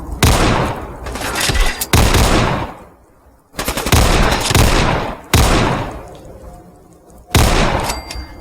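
An IMI .50 AE Desert Eagle pistol fires in modded Fallout 4, several loud, close bursts of heavy booming shots, each trailing into a decaying echo, with no talking.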